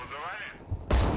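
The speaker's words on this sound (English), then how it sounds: "I'm gonna hit the top left of the point, or the cap point, with artillery." An artillery strike in the strategy game Broken Arrow lands as one sudden, heavy boom right at the end, just after a brief voice.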